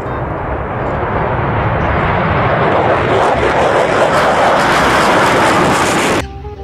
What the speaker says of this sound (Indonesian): Wow, ada pesawat tempur.